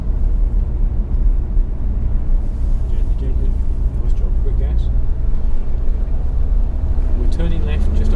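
Remote control Nissan GT-R capable of 200 mph drives with a steady, fairly loud motor drone and whine running throughout, while people talk over it.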